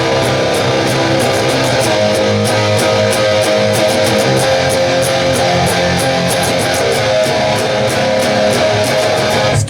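Distorted electric guitar playing a riff, loud and dense, with repeated strummed chords in a steady driving rhythm and no voice over it.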